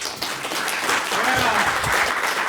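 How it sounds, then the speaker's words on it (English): Audience applause fills a conference hall after a leadership talk, dense and steady clapping for a couple of seconds. "Round of applause, please, one more time."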